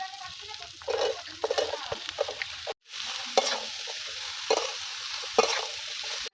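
Chopped bottle gourd frying in a pan with chili and turmeric for a prawn curry, a steady close sizzle broken by scraping stirs, with a brief silent gap partway.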